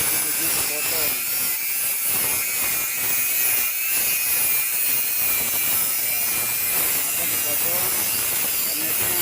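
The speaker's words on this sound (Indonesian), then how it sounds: "alatnya juga cukup ringan, pakai gerinda saja" Angle grinder cutting a lightweight steel truss member, a steady loud high-pitched whine running throughout with continuous broadband grinding noise.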